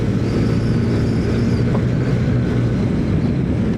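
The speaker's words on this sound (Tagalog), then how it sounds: "Gusto ko ma-RPM ang motor ko ngayon" A Yamaha NMAX Tech MAX scooter with CVT running on the road, its engine giving a loud, steady drone mixed with wind and road rumble, without any clear rise or fall.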